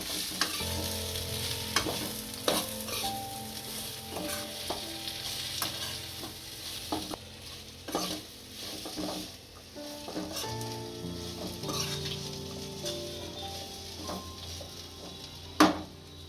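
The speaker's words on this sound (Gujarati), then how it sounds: "આ કાંદા અને કેપ્સિકમ નો મસાલો કરો તો એ નાખીએ અને સેડવી લેશું આમાં" Onion and capsicum masala sizzles steadily in a pan for a Gujarati dahi shimla mirch dish, with repeated scraping stirs and occasional clinks of a spoon against the metal, close and continuous.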